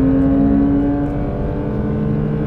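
Porsche 992 GT3 engine heard from inside the cabin, a loud steady drone with strong harmonic tones, holding a fairly constant pitch throughout without any talking.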